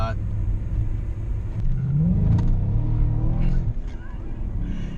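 A Mercedes-Benz W219 CLS 55 AMG accelerating from low speed with its traction control on, giving a loud, steady engine rumble that builds and rises in pitch, with a driver talking over it.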